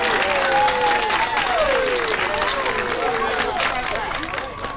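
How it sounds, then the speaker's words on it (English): Applause from a live theater audience in Chicago, dense steady clapping with excited voices and cheers mixed throughout, fairly close and loud. "give them a huge round of applause"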